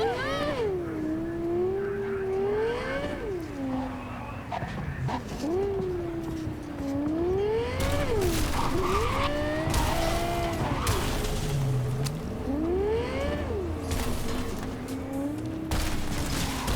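Car driving and skidding in Cyberpunk 2077, heard as a steady engine drone that keeps rising and falling in pitch, broken by repeated loud bursts of tire screech and crashes from the middle onward.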